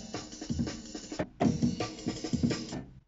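Drum loop sampled at 12-bit on a Roland S-330, a busy breakbeat of punchy kicks and crisp snares in a swung pattern with a brief gap midway, lo-fi and gritty, playing alone.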